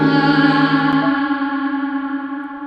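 A sustained, heavily processed vocal tone from an echo effect plugin rings out with layered harmonics and a shimmering echo tail that slowly fades.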